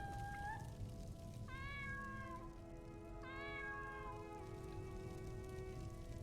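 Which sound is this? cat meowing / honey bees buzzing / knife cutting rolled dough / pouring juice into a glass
cat meowing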